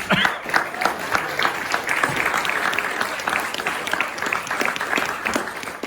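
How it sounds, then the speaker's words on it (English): An audience at the Tamaki Maori Village applauds the chefs enthusiastically, dense clapping that swells at the start and carries on steadily for several seconds. "How about a round of applause for your chefs tonight"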